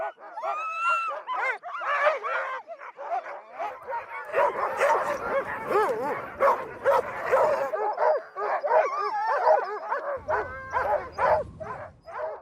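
Sled dogs on a mountain dog-sledding outing barking and yipping excitedly, a dense overlapping chorus of sharp yelps and whines close by, continuous throughout with no talk.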